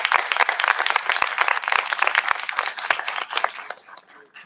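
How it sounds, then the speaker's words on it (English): A conference audience at a heritage management event bursts into dense, close applause that holds steady for several seconds, then thins out and fades near the end. "Big round of applause for these people"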